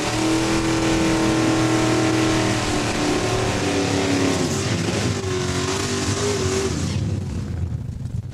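A race car at Saskatchewan International Raceway in Saskatoon roars loudly during a drag-racing event, its engine rising and falling as the throttle opens and closes before fading away.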